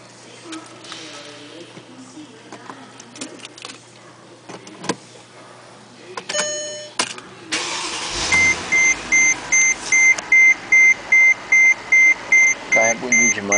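A Mercedes-Benz car engine cranks and starts, then settles into an idle while a series of evenly spaced electronic beeps repeats; someone speaks before it starts.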